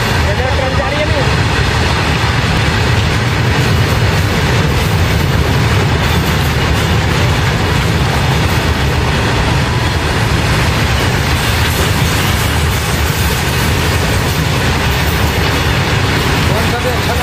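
A train rolls past close by, a loud continuous rumble with rattling wheel noise that stays steady throughout, while people shout hurriedly over it.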